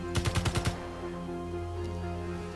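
A short burst of about six rapid gunshots from a handheld gun in the game Space Engineers, loud and close, fired during a beginner's warhead demonstration, then fading into a steady low mechanical hum.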